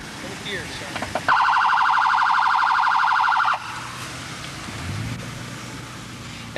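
A police vehicle siren runs in a rapid pulsing warble mode, loud and steady for a couple of seconds, then stops sharply, leaving quieter background noise.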